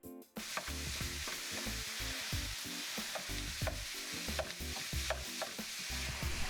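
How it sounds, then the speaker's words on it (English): Two pounds of 80% ground beef sizzles in a hot skillet over medium heat, a continuous close crackle broken by regular scraping and stirring strokes, with no talking. "Now that we have started browning our ground beef"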